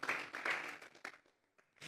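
A Spanish-language Sunday church congregation claps together in a brief burst of applause that fades out, heard from within the room, with no talk over it.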